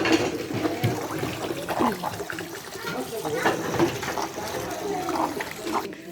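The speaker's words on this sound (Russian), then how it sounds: "здесь моется посуда, потом второй раз здесь, 2 раза полоскается" Dishes being washed and rinsed twice in basins of water in a Chechen wedding catering kitchen: steady splashing and clinking runs throughout, with people talking over it.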